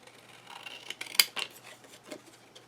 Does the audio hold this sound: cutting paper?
yes